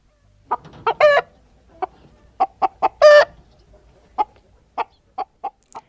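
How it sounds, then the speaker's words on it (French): A hen clucks in a series of short, separate calls, with a couple of longer, drawn-out squawks among them, close and clear with no talk over it. "elle caquetait en grignotant des graines de courge bio"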